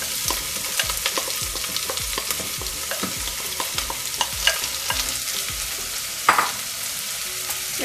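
Onions sautéing in a pan for a whole-spice mutton bhuna gosht, with a steady close sizzle and repeated scraping stir strokes at a fairly even rhythm and one louder clatter near the end, no talking.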